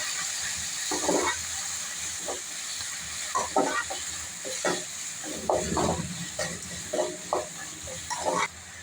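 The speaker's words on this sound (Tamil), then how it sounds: "தக்காளி நல்லா வதங்கிச்சிங்க." Chopped tomatoes with coarse salt and turmeric cook in a pan for Tamil chicken kulambu, giving a steady soft sizzle broken by scraping stirs of a spoon against the pan, close by with no talking.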